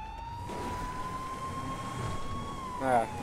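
A police car siren in the video game GTA Online wails steadily with a slowly rising and falling tone under a muffled background rumble, with a brief sharper chirp near the end.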